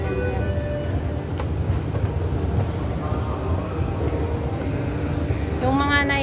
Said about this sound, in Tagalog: Ayan sa MRT dito sa Doubigaut.